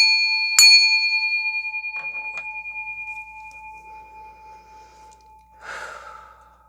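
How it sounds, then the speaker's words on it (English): A bell rung once during a tarot reading, a sharp strike followed by a long, clear ringing tone that slowly fades, with faint breathing and soft rustling afterward. "Focus in on their energy as I ring the bell."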